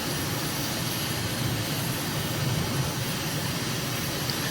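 A jet aircraft in Microsoft Flight Simulator drones with a steady, loud engine roar and whine, constant throughout with no voices.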